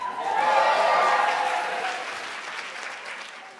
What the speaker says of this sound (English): please give a round of applause for Jen Camper